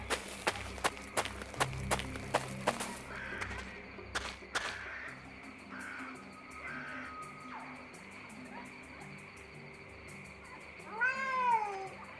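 In the Secret Files: Sam Peters adventure game, a woman imitates cat noises in the jungle, giving a rising, wavering meow near the end, preceded by a run of sharp rhythmic footsteps or thumps and quieter ambient sounds.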